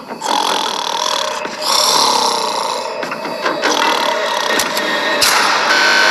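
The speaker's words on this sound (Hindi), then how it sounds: "वो स्टूपिड कॉप सारी रात खर्राटे मारता रहा।" A man snores through the night in a prison cell, a loud, continuous rasping drone that swells and fades with a few sharp clicks and no talking.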